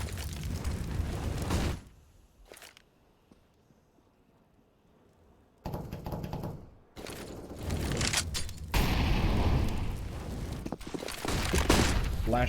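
Flashbangs and smoke grenades popping near the A bombsite in a Counter-Strike match, with loud bursts at the start, a quiet lull, then a dense run of sharp blasts and gunfire-like booms.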